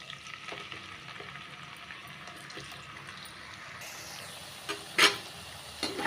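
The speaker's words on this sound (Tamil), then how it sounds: "இப்போ இந்த சே சேனக்கிழங்கை போட்டு லைட்டாக பொறிச்சு எடுத்துக்கலாம்" Elephant foot yam pieces frying lightly in hot oil, a steady low sizzle with a few sharper spits and crackles near the end, no voices.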